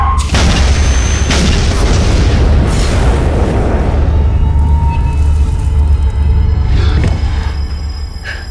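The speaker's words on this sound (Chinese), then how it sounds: "放开我，要爆炸了！" A car blows up in a television drama with a loud, deep boom and a heavy rumble that fills the scene and slowly fades, followed by faint debris and ringing tones near the end.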